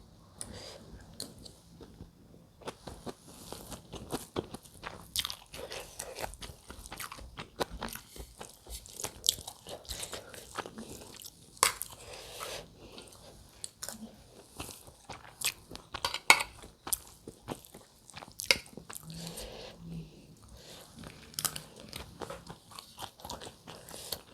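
A simple meal seasoned with Royco and pepper is eaten up close, with irregular crunching, chewing and bites mixed with light clinks of dishes or cutlery, and no talking.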